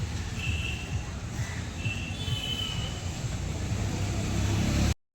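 Steady low rumble of a car driving along a road, carrying a Ganesh idol to a company, with faint tonal whines drifting over the constant engine and road noise until it stops abruptly at the end.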